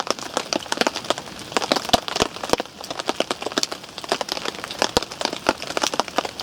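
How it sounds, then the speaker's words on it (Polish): Rain falling outdoors by a lake as it eases off, scattered irregular drops tapping a surface nearby, moderately loud with quieter gaps between bursts. "Coś jakby przestawał ten deszcz padać."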